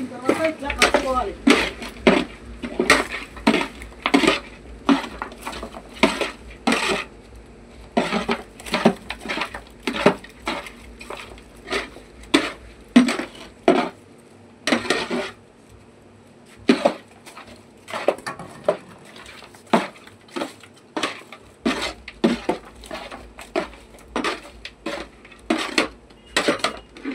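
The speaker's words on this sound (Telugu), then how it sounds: "అన్ని సామాన్లు అన్ని వేసిన తర్వాత ఇట్లా కలుపుకోవాలి." Ingredients and spices being mixed together in a bowl, giving repeated clinking, scraping hand-and-utensil strokes in an irregular rhythm, close and fairly loud, with a short pause midway and no talk over them.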